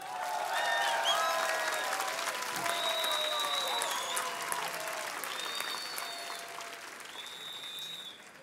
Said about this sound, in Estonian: võib teha kõva aplausi Euroopa Komisjoni president Jean-Claude Junc